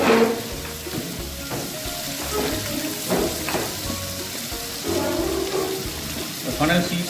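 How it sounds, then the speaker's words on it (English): Onion and green chilies frying in a pan for South Indian coconut rice, a loud crackling sizzle with stirring clatter and watery splashes scattered through it. "Add the onion. Now add the green chilies."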